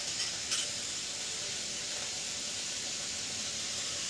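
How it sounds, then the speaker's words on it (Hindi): Grated carrots lightly frying in hot oil in a home kitchen make a steady, soft hiss and sizzle with a couple of brief crackles near the start, and no one speaks. "हल्का सा फ्राई कर रहा हूँ"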